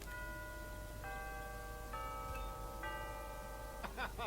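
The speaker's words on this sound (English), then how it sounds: "You can ring someone's doorbell" A doorbell chiming in the video game Hitman 2: several layered bell tones sound in sequence, each sustained and overlapping, fairly quiet over a low background hum.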